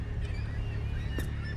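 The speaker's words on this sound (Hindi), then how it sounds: "अच्छा इसकी वजह से वो कौवे चैं चैं कर रहे हैं।" Crows caw in The Lightkeeper video game as a dense, steady chorus of honking, squawking calls over a loud ambient drone, with one sharp click partway through.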